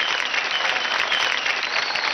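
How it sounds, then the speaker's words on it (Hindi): A dense burst of audience applause at a televised dance competition show, steady and loud for the whole stretch with no talk over it. "जोरदार ताली हो जाए"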